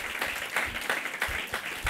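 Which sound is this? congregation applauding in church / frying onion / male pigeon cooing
congregation applauding in church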